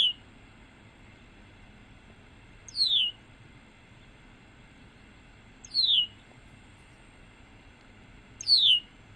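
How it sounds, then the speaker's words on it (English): Red-winged blackbird call notes repeated three times at even intervals of about three seconds, each a short, clear, downward-slurred whistle over quiet background. "so that's the red-winged blackbird call."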